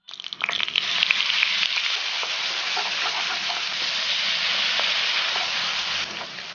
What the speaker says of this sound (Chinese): 肉末炒熟，盛出备用。